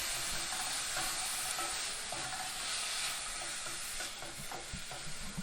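Garlic cloves sizzling in a hot pan while jackfruit sliders are being made, a steady broadband crackle with a few small stir clicks, close and fairly quiet, no voices.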